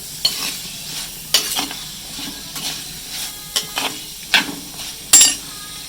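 Grated coconut roasting in a pan for a tapioca theeyal, stirred with a spoon that scrapes and clatters in repeated strokes over a soft continuous sizzle, close and clear.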